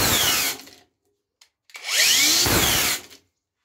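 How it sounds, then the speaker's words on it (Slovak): A Parkside Performance angle grinder grinds under extremely hard pressure, roaring in two loud bursts that each cut off abruptly as the tool stalls, with silence between them. "Flexa Parkside Performance po sekunde brúsenia zastane"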